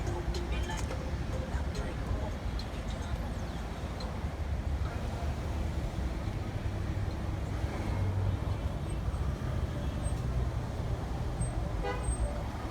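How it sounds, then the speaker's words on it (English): Thick road traffic during Jamaica's Independence celebrations rumbles as a dense, steady drone, with car horns tooting now and then among the engine noise. "The traffic get thicker now."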